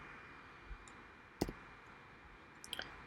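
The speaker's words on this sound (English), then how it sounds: "Press X on the keyboard." Keyboard key presses while drawing in Fusion 360 CAD software, heard as a few faint, isolated clicks spaced apart in a quiet room.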